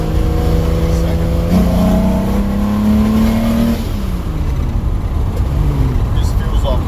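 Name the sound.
265 HEMI car engine revving on a dyno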